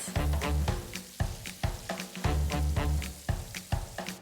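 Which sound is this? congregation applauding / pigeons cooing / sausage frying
sausage frying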